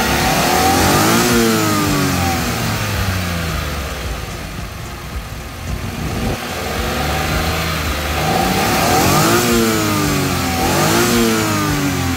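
A Suzuki DA17V van engine with tiptronic transmission revs up and down repeatedly, climbing to loud peaks, dropping back toward idle, then rising again, heard close with no talking.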